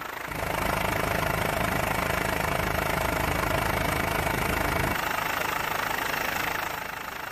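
The engine of the Japanese whaling factory ship Kangei Maru runs underway as a loud, steady, rumbling drone with a faint knock. The drone holds unbroken throughout and drops slightly in tone near the end.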